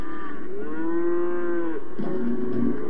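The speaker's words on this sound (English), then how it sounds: "They'd be mooing, vocalizing, trying to let us know that they need some attention." A single cow gives one long, loud, close moo with a rising then falling tone, followed by faint rustling.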